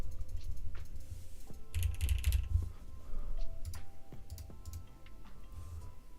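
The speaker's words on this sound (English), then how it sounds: "But I do enjoy typing" Rapid clattering keystrokes on a computer keyboard during a typing race, uneven bursts of clicks up close with a few louder clusters, no talk.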